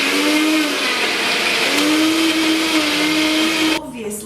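A countertop blender whirs loudly and steadily as it purées juice ingredients with water, the motor pitch holding almost constant before cutting off abruptly near the end.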